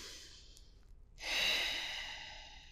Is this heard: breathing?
yes